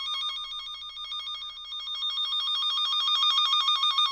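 A KS Tools 150.3075 short-circuit detector probe, traced along a vehicle cable through trim panels, gives off a continuous warbling electronic beep that pulses rapidly and evenly. It sounds close and clear, with no voices.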